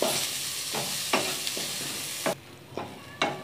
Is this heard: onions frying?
yes